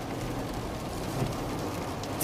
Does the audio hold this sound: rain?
yes